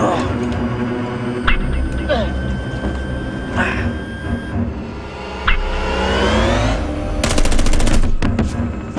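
Gunfire in a Westworld shooting video game, a few sharp shots at first and then a rapid automatic burst near the end, over constant engine and vehicle noise and a speaking voice.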